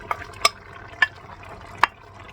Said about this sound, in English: So now I'm going to add the cheese.